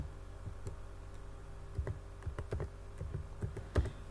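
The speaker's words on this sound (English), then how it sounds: "then we'll tap, then we'll type" Quick, light keystrokes patter on a computer keyboard in bursts with short pauses between, close and fairly quiet over a faint steady hum, with no speech.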